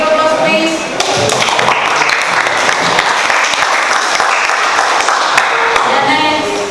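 Classroom audience claps after a student presentation, a dense, sustained burst of many hands that holds steady and fairly loud throughout, with a brief dip near the start.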